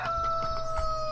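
Farm chickens cluck briefly in Farming Simulator 2013, a short burst of fowl calls over a steady tonal game background.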